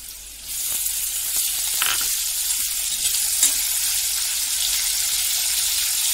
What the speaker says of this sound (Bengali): এবার পেঁয়াজটা দিয়ে দিলাম।